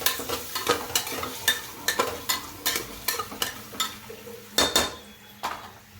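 Undhiyu vegetables and spices being stirred and mixed in a pan, a quick run of a dozen or more metal spatula scrapes and clacks over a soft sizzle, close and fairly loud, no talking.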